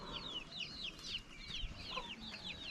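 Laying hens kept in a Nepali mountain village cluck repeatedly in short rhythmic bursts, fairly close and moderately loud, over a faint outdoor background hum with no talk.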